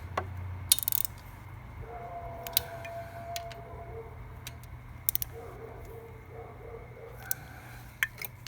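Clutch cover bolts on a Honda Super Cub motorcycle are tightened in a crisscross pattern, with quiet ratchet clicks and occasional sharp metallic taps over a low steady hum in a workshop.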